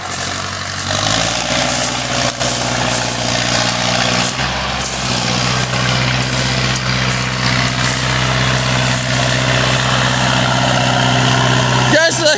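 An old log skidder engine runs steadily on a steep skid road during a timber harvest, a loud low continuous drone that shifts pitch slightly as it works, heard close and unbroken throughout.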